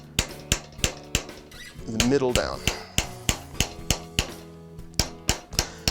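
A hammer strikes a metal bracelet blank in quick, sharp, evenly spaced ringing taps, close and loud, with a short burst of metallic clattering partway through while someone speaks briefly.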